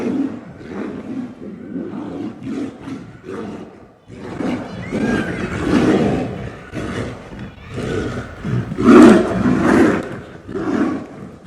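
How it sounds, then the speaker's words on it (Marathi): Two tigers fighting in Kanha sanctuary, Madhya Pradesh, let out repeated rough roars and snarls, close and loud, in bursts throughout with short gaps between them. "मध्य प्रदेशच्या कान्हा अभयारण्यामध्ये कशा या प्रकारे या 2 वाघांची झुंज सुरू होती"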